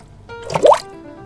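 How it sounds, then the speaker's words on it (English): A single wet squelching splash, like a foot landing in a mud puddle, rising quickly to a short plop and fading within a second, close and fairly loud. "He liked to run through mud puddles."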